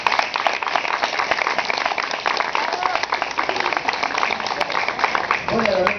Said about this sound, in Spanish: Un aplauso para el profe.